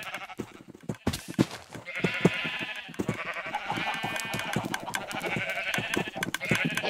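Sheep in a city-building video game bleat repeatedly in a wavering, nasal chorus, fairly close and continuous over several seconds, with faint rhythmic tapping underneath and no one speaking.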